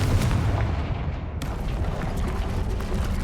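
A Confringo blasting spell detonates in the video game Hogwarts Legacy with a loud, sustained booming roar and crackling blast noise that fills the whole stretch, with a sharp fresh burst partway through.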